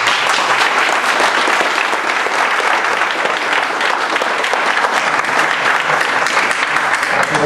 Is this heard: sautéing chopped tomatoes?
no